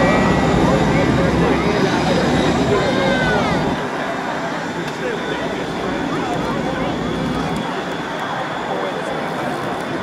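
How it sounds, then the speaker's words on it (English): At an airshow, the Golden Knights' aircraft taxis out for takeoff, a loud, steady engine roar and whine heard from fairly close, easing slightly partway through, with a voice talking over it. "There go the Golden Knights, taxiing out for takeoff."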